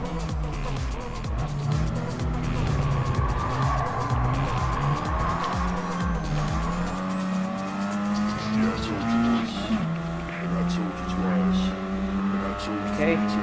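GT1 race cars in Gran Turismo Sport, passing an Alfa Romeo 4C: close, droning engines rising and falling in pitch through gear changes, with someone talking over them.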